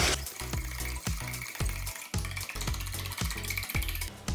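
Two eggs fry in a pan with a constant crackling sizzle, while regular low thumps and clatter recur every half second or so beneath it, close up and fairly loud.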